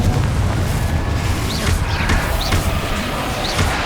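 A Confringo spell blast explodes in the Hogwarts Legacy video game on PS5, a loud, booming burst over a rumbling, crackling low roar with several whooshing pops layered across the action.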